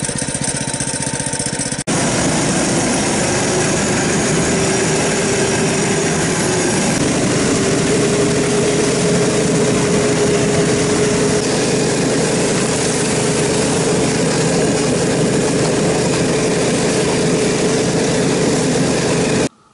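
A vehicle engine runs steadily and loudly throughout while driving on through snowy country during hare trapping, with a continuous droning hum and a faint rising whine; no one speaks.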